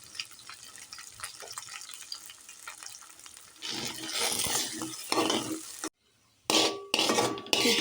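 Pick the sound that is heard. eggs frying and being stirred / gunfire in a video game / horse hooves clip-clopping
eggs frying and being stirred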